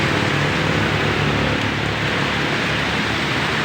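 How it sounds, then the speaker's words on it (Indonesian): Heavy rain mixed with strong wind sweeping over trees along a bypass road in Cirebon, West Java, a dense, steady roaring wash of noise, loud and unbroken throughout. "Saat ini hujan sedang deras bercampur"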